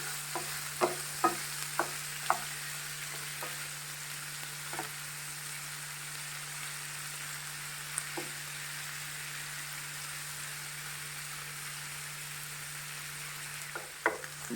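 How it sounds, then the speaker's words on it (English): Prawns sauté in a frying pan with a soft, continuous sizzle under a steady background hum, and a few faint scattered taps of stirring. "You just have to saute this for 2 minutes and remove it."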